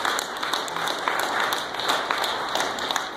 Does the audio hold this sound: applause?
yes